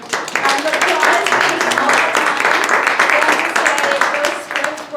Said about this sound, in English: So let's give the judges a warm round of applause